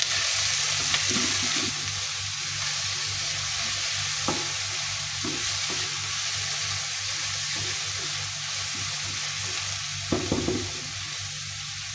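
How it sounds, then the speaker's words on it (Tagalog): Onion sizzling loudly in hot coconut oil in a pan while cooking prawn fried rice, a steady dense hiss with a few soft knocks and stirring scrapes, close and continuous with no talk. "So now we're going to put the onion"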